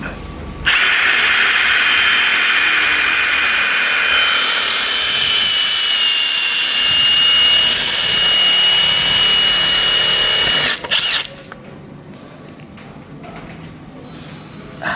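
A power drill runs loud and close for about ten seconds, its pitch wavering slightly as it bores into hardwood, then cuts off, leaving quiet room noise.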